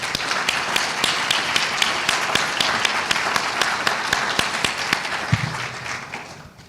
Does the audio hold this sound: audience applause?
yes